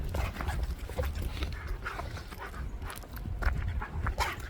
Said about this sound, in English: So my dogs are going nuts over something.